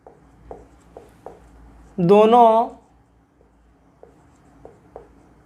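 Writing on a board during a trigonometry lesson gives faint, irregular taps and strokes spread across the clip, broken near the middle by a brief, loud voiced sound.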